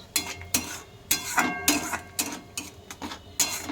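A spoon scrapes and clacks against a pan while palak paneer with spinach cooks, giving sharp, repeated knocks in an uneven rhythm about every half second, close and fairly loud with no talk.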